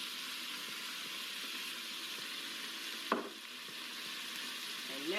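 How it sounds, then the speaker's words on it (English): Ground beef and onions sizzle and brown in a pan for sloppy joes, a steady close hiss with one brief clatter of stirring partway through. "we're going to let this ground beef brown."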